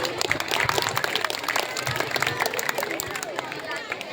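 An audience at a school Children's Day celebration claps in a busy, continuous round of applause mixed with crowd chatter and voices, steady and fairly loud throughout.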